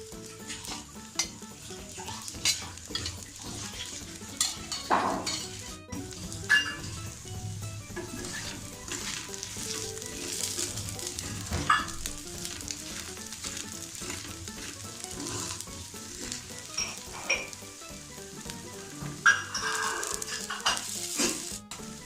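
An activated charcoal dosa fries in oil on a hot pan, giving a steady close-up sizzle with occasional scrapes and clinks of a spatula, and no talking.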